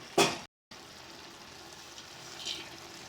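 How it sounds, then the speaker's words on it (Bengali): Carrot halwa bubbling in a pan on the stove, a soft, low simmering hiss with faint pops, preceded by a short clatter and a brief gap. "আর এদিকে আমাদের গাজরের হালুয়াও কিন্তু খুব সুন্দরভাবে ফুটছে।"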